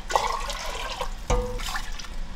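Water poured into a pot of stir-fried beef to start a soup, a close splashing gush with a sudden sizzle-like surge partway through, briefly loud against a quiet kitchen.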